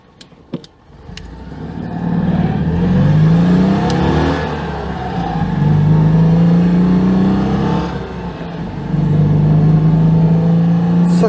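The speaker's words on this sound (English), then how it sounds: "Such a lovely little engine." A small, warmed-up Citroën 2CV car engine starts with a few clicks, then runs and revs up and down in smooth rising surges, loud and close.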